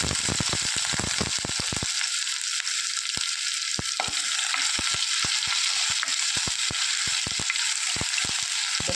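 Dried chillies, chopped garlic and ginger fry in hot oil in a pan for a breadfruit thoran, a steady loud sizzle throughout with a string of sharp clicks and taps from stirring.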